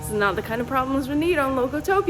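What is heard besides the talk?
None of the usual background noises is heard.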